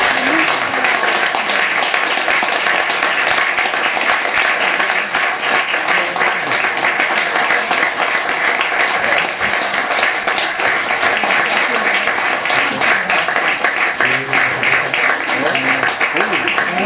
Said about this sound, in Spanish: Y un fuerte aplauso.